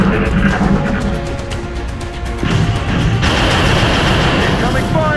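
Suppressing gunfire in a video game, a sustained burst of loud rapid shots and booms mixed with game effects and a voice calling out.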